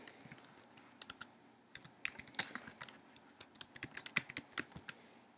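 Someone types on a computer keyboard in an office setting, with quick irregular clicking keystrokes, some bunched in fast runs, close but soft and heard alone.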